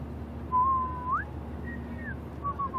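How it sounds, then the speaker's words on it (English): A character whistles a short, wavering tune in the Life Is Strange video game, three brief phrases with small pauses between them, close and clear over a low steady background hum. "Do you mind not whistling?"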